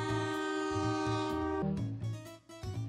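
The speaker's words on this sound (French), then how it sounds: "les bruits de klaxons désespérés du train n'ont eu aucun effet" Train horn blasting in long sustained tones, loud and close, shifting pitch partway through with a rumble of rolling rail wagons underneath.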